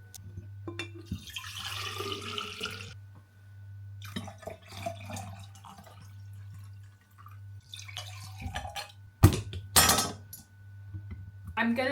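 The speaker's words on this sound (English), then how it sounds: "I'm gonna do a quick washing up break because I've made a mess." Dishes being washed up at a home kitchen sink during meal prep, with bursts of running water, drips and occasional close clinks of cutlery and glass, separated by quieter gaps.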